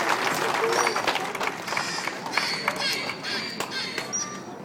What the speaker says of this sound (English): Let's give these whales a round of applause